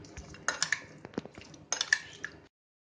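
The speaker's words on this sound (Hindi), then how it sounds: "और ये काली मिर्च का पाउडर डाल देंगे और इसको हमने अच्छे से मिक्स करना है।" A spoon clinks and scrapes against a bowl while black pepper powder and salt are mixed into raw chicken, two short bursts of close metallic clatter, then silence.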